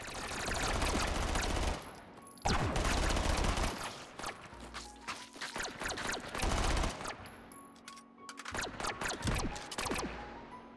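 Rapid gunfire bursts in the VR game Hot Dogs, Horseshoes & Hand Grenades, loud, close volleys and automatic fire separated by short gaps, with sharp cracks repeating over about ten seconds.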